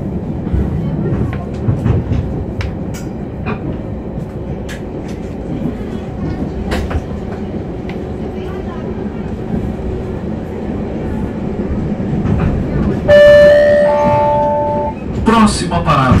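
A passenger train pulls into Governador Valadares station, rumbling and clicking over the rails, with a Portuguese announcement heard over the noise and chimes near the end.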